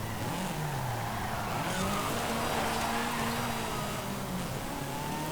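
Engine roar and tire squeal from a car sliding through a drift in the racing game Forza Horizon 5, a steady loud wash of engine and skid noise with pitch rising and falling, no talk.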